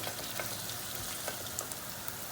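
Tomato paste fries in its own oil in a pan, giving a steady, fairly quiet crackling sizzle with small pops throughout and no talk.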